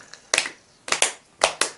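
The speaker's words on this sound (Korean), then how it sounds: "박수 한번 주세요" A few people clap in a small room, giving scattered, sharp hand claps in loose pairs, close and fairly loud, with no talk.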